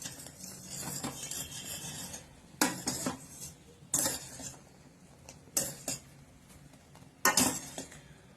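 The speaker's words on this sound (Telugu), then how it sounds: "సో స్లోగా చేస్తూ ఉండాలి. ఇలా కలుపుకుంటూ ఉండాలి," Jam being stirred slowly in a pot, with a spoon scraping and knocking against the sides in four or five separate bursts between quieter stretches; close and fairly soft.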